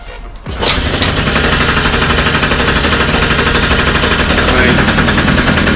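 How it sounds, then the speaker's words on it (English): A vehicle engine being built in a 24-hour challenge catches after the ignition is switched on, then settles into a loud, rapid, steady mechanical chatter that runs close and continuous. "we need to get it started. So ignition on, hopefully it still works."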